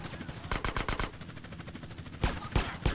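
Rapid bursts of gunfire in GTA: San Andreas, a quick run of five or six sharp shots followed after a pause by three more, loud over a low background hum.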